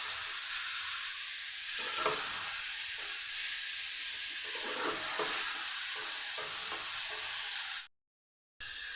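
Spice paste with cumin powder and a splash of water frying for an ilish fish head curry with taro, a steady loud hiss and sizzle with stirring scrapes, cutting off abruptly near the end.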